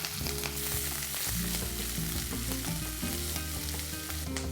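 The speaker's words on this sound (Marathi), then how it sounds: "मिरच्या चांगल्या फ्राय झाल्या आहेत" Green chillies and garlic fry in a pan for a brinjal bhaji, a continuous close sizzle, with tonal hum running underneath throughout, no voices.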